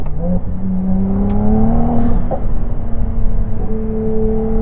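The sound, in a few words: Ferrari 296 GTB V6 turbo engine accelerating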